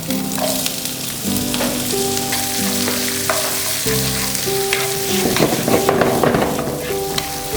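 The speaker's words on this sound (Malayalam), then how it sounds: "ഇനി നമ്മളിതിലേക്ക് ഒരു സവാള അരിഞ്ഞതും അതുപോലെ ഒരു പച്ചമുളക് അരിഞ്ഞും കൂടി ഇട്ട് കൊടുക്കാം." Chopped onion and green chilli sizzling in a pan while vermicelli upma is made: a steady, fairly loud frying hiss with occasional stirring clatter and a background tonal hum, no talking.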